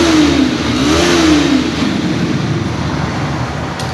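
A Bajaj Pulsar NS 160 motorcycle engine revs loudly and close, its pitch climbing, dipping and climbing again before settling into a steady, sporty rumble.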